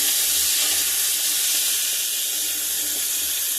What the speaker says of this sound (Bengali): কড়াই গরম করে ওই তরকারিটা বসিয়ে দেবো আমি